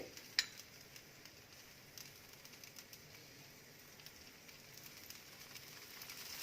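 Oil drizzled around the edges of a rava (suji) dosa sizzles softly and steadily in a hot pan, with faint crackles throughout and no talk.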